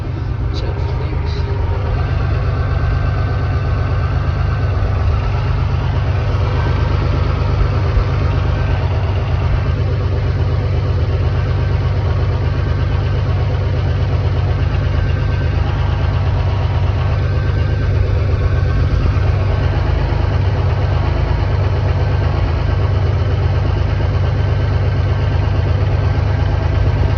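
V6 3.1L engine idling just after starting up following an oil pan gasket replacement: a steady, loud low rumble that holds even for the whole stretch, with a voice talking occasionally over it.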